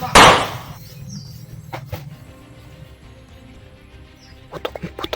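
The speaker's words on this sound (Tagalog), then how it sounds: "Putok, may putok. Dalawang putok." A gunshot cracks loud and sharp right at the start. Fainter bangs and clicky knocks follow over a quiet background.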